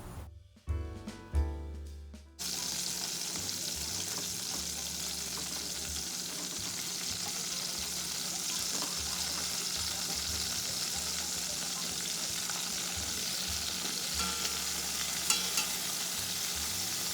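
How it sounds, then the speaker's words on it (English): Cauliflower pieces sizzle loudly in about eight or nine tablespoons of hot oil in a medium pot, a dense continuous frying hiss starting right after a few short knocks, with faint occasional pops. "I'm gonna add about 8 to 9 tablespoons of oil in a medium pot and start caramelizing the cauliflower"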